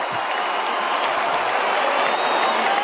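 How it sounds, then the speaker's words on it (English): Essendon Bombers football fans in a stadium crowd cheering and clapping steadily for a player after a win, a dense continuous roar of applause at St Kilda vs Essendon. "he's obviously a very popular bloke because the cheering and the clapping"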